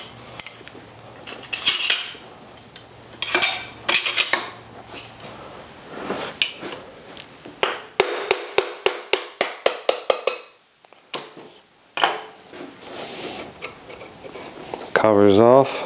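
Metallic clinks, taps and rattling come from long through bolts being taken out of a phase converter, close and irregular, with a quick run of ratchet-like clicks midway and a person speaking.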